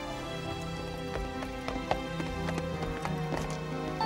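A horse pulling a cart arrives with steady clip-clopping hooves, crisp repeated hoofbeats in an uneven trotting rhythm over a low rumble of wheels, fairly close and continuous.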